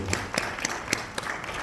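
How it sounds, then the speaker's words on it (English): Sparse, distinct handclaps from an audience applaud a speaker at a talk event, scattered and fairly close over a low background murmur. "thank you everybody, a grand hand of applause"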